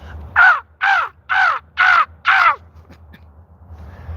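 Crows give five loud, harsh caws in a steady rhythm close by, each call evenly spaced, before the calling stops and faint background hum remains.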